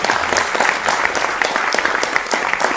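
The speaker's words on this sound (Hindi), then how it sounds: "अरे ताली तो बजा दिया करो ना।" A studio audience claps in a steady, dense round of applause that carries on close and loud for a few seconds, with no other sound standing out.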